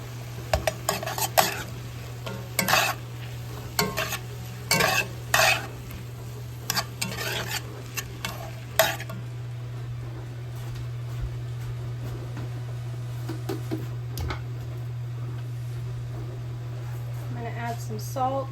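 Frozen pucks of farm garlic blended with olive oil melting in a pan, stirred with repeated sharp utensil clinks and scrapes against the metal over a low hum, then a quieter stretch with only a soft sizzle.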